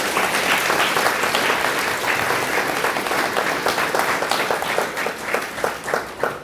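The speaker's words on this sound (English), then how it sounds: "So if you'd please join me in giving them a round of applause" A crowd at a high school graduation ceremony claps warmly, dense applause at first that thins out toward the end into fewer, separate claps.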